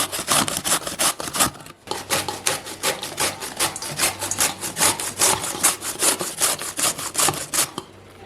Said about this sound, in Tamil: இந்த மாதிரி வந்து மாங்காவோட அப்படியே கூட நீங்கள் வந்து சீவி எடுத்துக்கலாம்